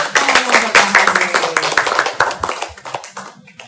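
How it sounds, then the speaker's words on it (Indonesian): Clapping for Pak Hari during an Indonesian family podcast, a few hands tapping in a quick, uneven burst that thins out toward the end, with faint voices mixed in. "Tepuk tangan untuk Pak Hari."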